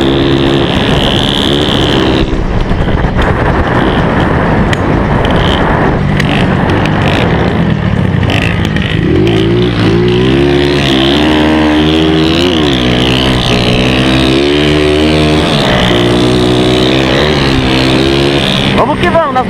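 A strong motorcycle rides at an easy pace on a dirt route, its loud engine droning steadily with shifting pitch and wind rush throughout while someone talks over it.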